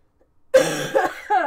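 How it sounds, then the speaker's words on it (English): After a short silence, a person coughs several times in a harsh burst, close and fairly loud. "I really apologize for those of you that have to listen to the coughing fit"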